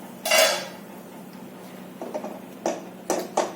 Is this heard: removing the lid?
yes